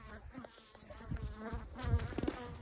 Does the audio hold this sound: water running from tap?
no